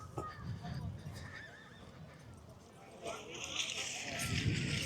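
At a tent pegging event in the UK, a horse whinnies nearby while hooves clip-clop over a busy outdoor background, and a second neigh rises toward the end.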